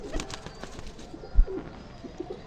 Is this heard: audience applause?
no